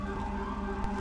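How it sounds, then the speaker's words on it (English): A steady, wailing ambulance siren in the video game GTA V, heard during a police patrol with a NYPD Ford Fusion, holding loud and continuous with no speech over it. "ambulance."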